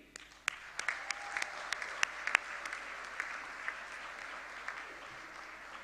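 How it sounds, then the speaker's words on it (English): Audience applause at the Global Conference on Cyber Capacity Building: light, scattered claps from a distant crowd, with sharp individual hand claps standing out over a soft, thin bed of clapping. "An applause also for you, the audience, the wider GFCE community."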